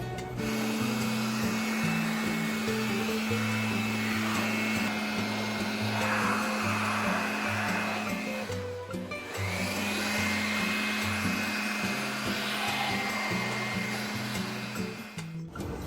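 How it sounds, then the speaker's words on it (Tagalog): A 2-in-1 electric blower and vacuum blasts air to dry a freshly washed Yamaha Aerox motorcycle. It gives a steady, close, whirring rush with a constant motor hum that dips only once, briefly, near the middle. "gamitin natin yung electric blower na nabili natin sa TikTok"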